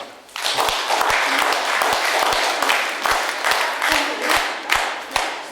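An audience claps at a literary and music association celebration. The applause starts suddenly, then holds as a steady roar of hands with some distinct individual claps standing out. It stays close and fairly loud.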